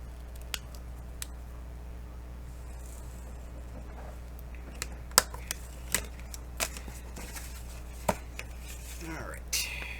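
Paper being cut for a greeting card journal, a few sparse snips and soft clicks spread across a quiet background with a low steady hum.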